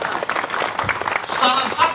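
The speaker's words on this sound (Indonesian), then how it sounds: "Tepuk tangan lagi" Applause during a church sermon in Mamuju, a dense crowd clapping steadily for two seconds, mixed with voices and a sung tone near the end.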